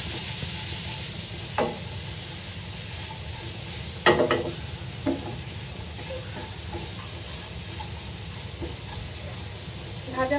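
Food seasoned with a little salt and black pepper sizzles softly in a pan, a low continuous hiss broken by a few sharp clinks and scrapes from a utensil, with a louder clatter partway through.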